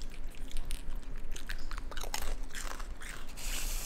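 A raccoon munches Parmesan goldfish crackers up close, a steady run of small crunchy bites and chewing with no talking.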